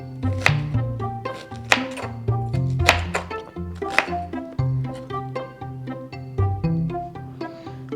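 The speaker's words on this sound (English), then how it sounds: "give both the onion and the cilantro a fine chop." Rapid knife chopping on a cutting board as onion and cilantro are finely minced, a steady series of sharp close thunks at a quick irregular rhythm with no talking.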